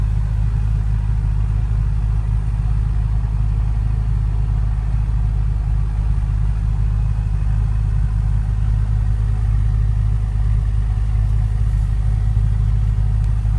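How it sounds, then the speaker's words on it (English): A 2014 BMW M5 F10 engine idles after start-up, a deep steady low rumble with exhaust drone, constant and close, no talking. "start up to the engine, the exhaust note"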